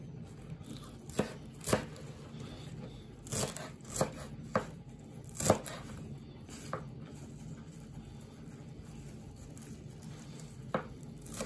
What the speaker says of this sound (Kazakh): Енді ас көкті тураймыз ұсақтап.